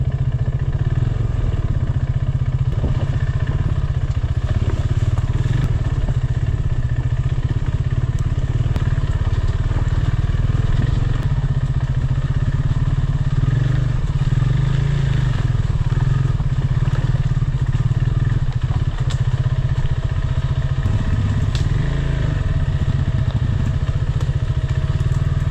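A motorcycle rides through a dense forest, its engine a loud, continuous low drone for the whole stretch, heard close with faint clattering and bumps from the rough track and no talk.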